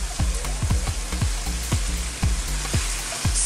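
Bok choy stir-fried in a wok with chilli prawns sizzles steadily and close up, with a quick run of sharp metallic scrapes and clanks as the food is tossed.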